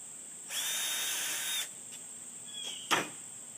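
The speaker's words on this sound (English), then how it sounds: "Pre-drill that hole." A power drill whirs steadily for about a second while pre-drilling a hole for a storm door, then stops, followed by a few faint clicks and a short sharp knock.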